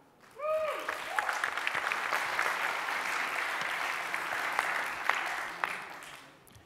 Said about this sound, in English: I'd like a grand hand of applause from students all the way from Vietnam